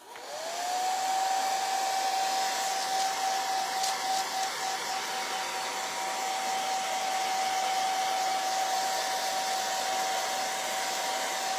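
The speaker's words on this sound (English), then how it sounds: "Let's dry it so we can get another coat of paint on here." A hair dryer blowing on chalk paint on a wood craft kit starts up with a rising whine, then runs as a steady, loud airy roar with a constant high tone, running alone with no talking.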